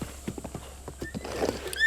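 Horse hooves clip-clopping in Zelda: Breath of the Wild, a steady run of close, evenly spaced thuds with a brief whinny and chiming game effects near the end, and no speech.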